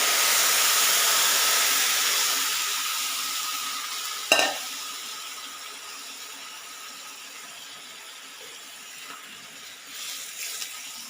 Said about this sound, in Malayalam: നമുക്കിനി ശർക്കര പാനി ഒഴിച്ചു കൊടുക്കാം ഇതിലോട്ട്,